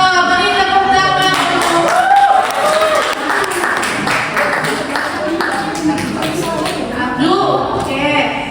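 A class of students claps in an Indonesian lesson on social problems, a lively patter of hand claps mixed with overlapping voices and chatter throughout.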